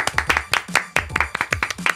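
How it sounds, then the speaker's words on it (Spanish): Studio audience clapping on a Spanish TV comedy show, a brief burst of loud, close, uneven claps with a voice briefly heard. "Un aplauso para TikTok"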